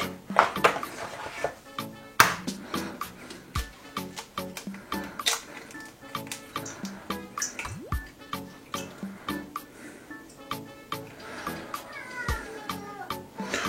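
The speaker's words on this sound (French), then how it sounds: "Si vous entendez miauler derrière, vous en faites pas, c'est mon chat" A cat meows repeatedly in the background over clattering kitchen sounds of cake baking, sharp knocks and dripping.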